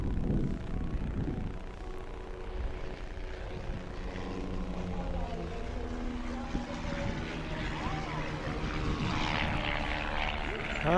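A propeller airplane engine drones steadily at the Las Cruces air race, a continuous low hum at moderate distance with faint outdoor noise and some brief talking.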